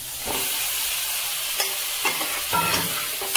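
Chicken meat sizzles in hot oil in a pan, a steady frying hiss broken by scraping strokes of a spatula as the pieces are stirred, close and clear with no talk.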